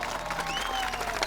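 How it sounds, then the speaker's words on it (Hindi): A crowd claps in a dense, continuous burst of applause, heard at moderate volume throughout. "ताली बजा रहे लोग।"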